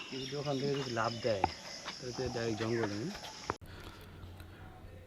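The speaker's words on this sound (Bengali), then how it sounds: "ঝিঝি পোকার ডাক" Crickets chirp steadily in the background while a person talks over them; the chirping continues faintly after the voice stops.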